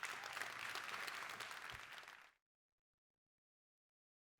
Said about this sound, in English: Another round of applause for Pierre Nicolas